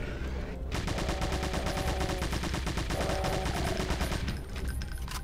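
Rapid gunfire in the Doom TNT Evilution shooter: a loud, steady stream of rattling shots for several seconds with a short pause at the start and a brief drop near the end.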